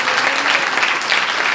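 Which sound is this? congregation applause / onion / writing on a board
congregation applause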